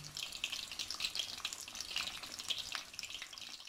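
Pieces of rahu fish frying desi style in a small pan, a soft, continuous hissing sizzle with light spitting crackles, fairly quiet and close, with no voices.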